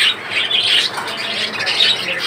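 A pair of home-bred prince birds gives repeated harsh squawking calls, close and fairly loud, in a short uninterrupted burst.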